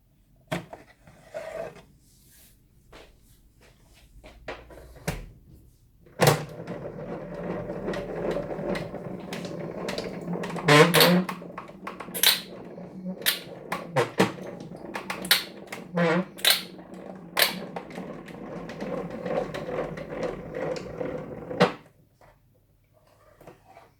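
A GoPress die cutting machine is cranked through with a foiling sandwich of layered die cuts and a cardboard piece. It gives a long, steady grinding roll broken by sharp clicks and knocks, close by, with quieter handling before and after.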